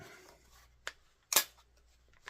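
A folding shotgun stock snaps into place, a couple of sharp metallic clicks close up, the second louder and crisper, with a faint third tick at the end and no voices.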